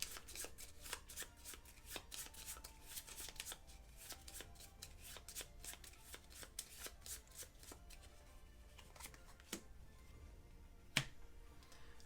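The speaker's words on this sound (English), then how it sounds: "since I discarded a card, I am going to need to shuffle" A deck of playing cards being shuffled during a co-op board game, soft rapid riffling clicks and taps at close range, fairly quiet with a sharper snap near the end.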